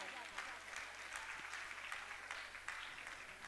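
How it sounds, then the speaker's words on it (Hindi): Audience applause at a gold medal ceremony for children, steady clapping from a crowd in a hall, moderately distant and continuous. "इनके लिए हम एक बार जोरदार तालियां बजा दें"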